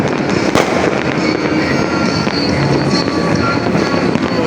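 Continuous crackling bursts of New Year fireworks at a distance, dense and overlapping, with a sharper pop near the start and no voices.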